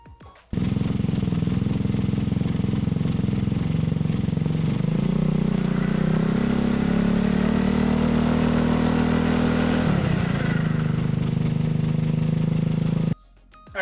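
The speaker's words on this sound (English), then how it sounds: "We'll start up the engine and let it run and get the wheel going and see if we can actually see the wobble in it." A Honda Ruckus scooter engine runs steadily with its wobbling rear wheel spinning, a loud continuous drone that shifts slightly in pitch partway through before cutting off near the end.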